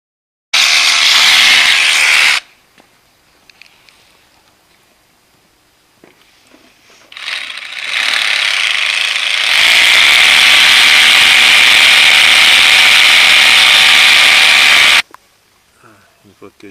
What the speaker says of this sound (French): afin de percer avec un fourré de 10 pour mettre les 4 tire-fonds.